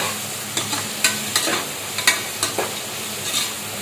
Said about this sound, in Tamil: இப்போ அடுத்து புதினாவை உள்ளே சேர்த்துக்கொள்ளவும். நன்கு வதக்கி கொள்ளவும்.